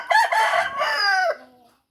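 A rooster crows once, close and loud, in a single drawn-out call that fades at the end.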